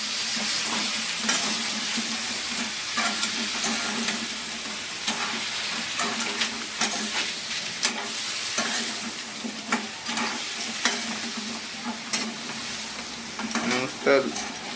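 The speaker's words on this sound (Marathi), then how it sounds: "मस्त मसाल्याची अशी फोडणी दिली." Malvani homemade masala tempering for a big-clawed crab curry sizzles steadily in a pan while being stirred, with close scraping clicks throughout and a continuous frying hiss.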